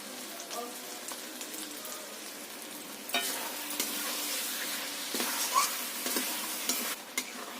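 Mutton masala is bhuna-fried in a pan, giving a soft, even sizzle with light spattering that turns brighter partway through. No one speaks.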